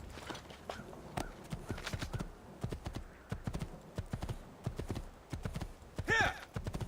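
Horse hooves clip-clop in Assassin's Creed II, a steady galloping rhythm of sharp repeated strikes with a short whinny near the end; faint speech sits beneath.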